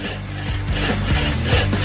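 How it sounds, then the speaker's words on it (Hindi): A simple hand saw cuts back and forth through a large burger in a kitchen setting, giving a steady rhythmic rasping with about five strokes, loud and close. "इसके लिए हमें एक साधारण आरी चाहिए।"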